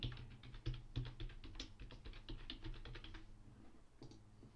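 Quick, light tapping on a computer keyboard, a steady flurry of soft clicks for about three seconds, then a short pause and a brief final burst, heard close and quiet with no talking.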